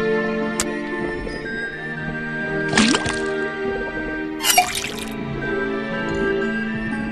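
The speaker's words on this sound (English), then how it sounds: "then tap the faucet" A faucet in the Detective Grimoire video game drips liquid into a cauldron, heard as a few short, bright splashy bursts over a steady tonal game music bed, with no talking.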